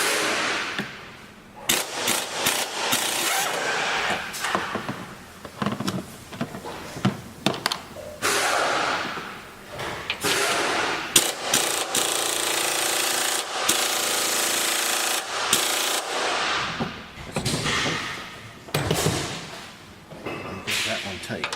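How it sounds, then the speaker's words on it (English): An impact wrench removes the top strut bolts on a Honda Ridgeline during a leveling kit install, giving repeated loud rattling hammer bursts separated by short pauses, with workshop clatter between them. "Taking the top strut bolts out."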